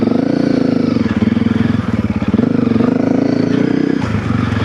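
A Honda CRF300L dual-sport motorcycle with a Stage 1.5 tune pulls away, its single-cylinder engine thumping loudly and close as it revs and climbs through the gears with brief dips between them.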